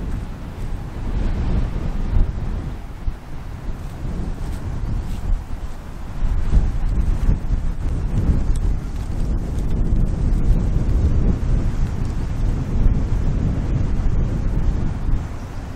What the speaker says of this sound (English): That wind is starting to blow.